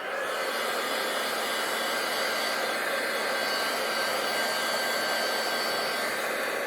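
A heat tool blows hot air to set embossing powder on a handmade aperture card, giving a steady, close, even whooshing roar that runs without a break and with no talk.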